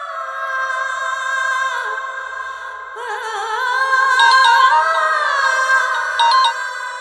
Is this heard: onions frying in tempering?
no